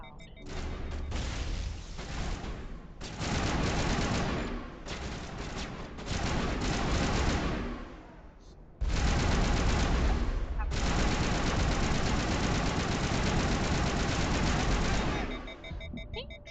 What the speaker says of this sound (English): That gunfire is so loud.